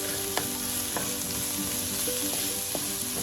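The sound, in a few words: diced sweet potatoes cooking in a pan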